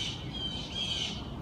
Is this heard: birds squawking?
yes